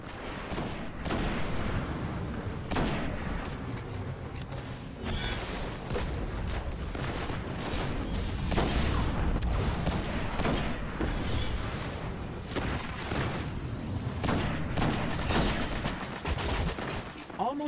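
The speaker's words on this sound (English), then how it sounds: "Bomb." Bomb blasts and heavy gunfire in the game Destiny on PS4, a long run of repeated loud bursts and booms in uneven rhythm, close and dense, with voices underneath at times.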